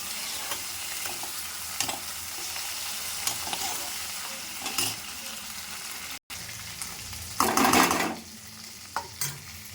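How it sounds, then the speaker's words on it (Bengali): Fish oil (fish fat) lightly frying in a pan for a Bengali chorchori with water spinach, giving a steady close sizzle with scraping stirs. A louder hissing burst comes near the end, after a brief dropout; no one speaks. "এর মধ্যে মাছের তেলটাও দিয়ে দেবো, দিয়ে হালকা করে ভেজে নেব"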